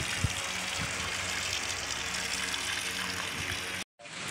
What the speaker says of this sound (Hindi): ये देखें इसके अंदर अभी पानी डाल रहे हैं